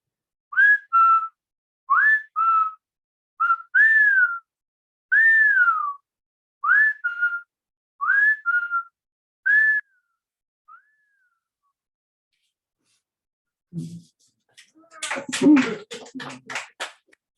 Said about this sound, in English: I finally learned how to whistle like you